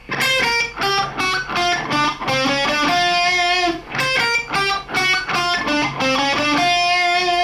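A distorted electric guitar plays a riff, choppy and staccato with quick single notes and short held tones, loud and upfront with no voices.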